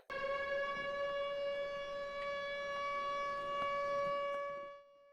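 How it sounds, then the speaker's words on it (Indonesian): A steady city-wide emergency siren warning of danger wails loudly and continuously, holding a constant multi-toned pitch before fading out near the end. "terdengar sirine darurat yang menandakan bahwa kota dalam keadaan bahaya"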